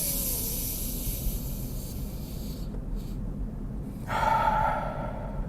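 A man demonstrates deliberate deep breathing, with long, slow, hissy breaths close to the microphone, ending in a louder exhale.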